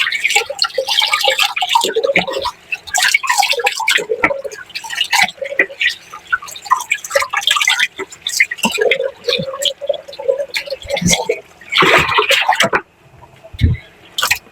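Running water splashes and drips in a sink while something is rinsed after handling fish. The watery sounds come in uneven bursts, close by, with a person talking throughout.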